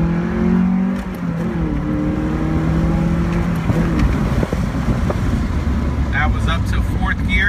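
A 2001 Mazda Miata with a manual clutch revs and climbs through gears, its pitch rising and dropping with each shift, with someone talking over it and a rush of road noise.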